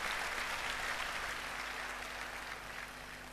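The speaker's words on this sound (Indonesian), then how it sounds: "Tepuk tangan buat prajurit-prajuritnya Tuhan." Church congregation applauding at a sermon, a steady wash of clapping throughout with a low hum beneath, fairly distant and even.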